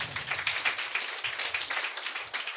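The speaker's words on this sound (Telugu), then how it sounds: "చప్పట్లు కొడతారా?" A church congregation clapping in rapid, steady rhythm, a dense run of sharp hand claps that carries on unbroken for a couple of seconds.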